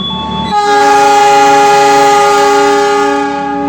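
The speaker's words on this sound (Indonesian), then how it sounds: "Gaya Baru Malam Selatan diberangkatkan juga dari stasiun Lempuyangan menuju stasiun akhir Surabaya Gubeng." A Gaya Baru Malam Selatan passenger train departing Lempuyangan station sounds a long, loud, steady multi-tone horn that sets in sharply and holds for several seconds before easing slightly, heard close by.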